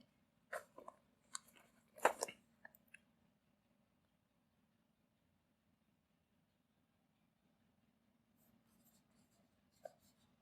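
Pen or pencil writing out a maths question on paper, short scratchy strokes clustered early and again near the end, faint and close, with quiet pauses between.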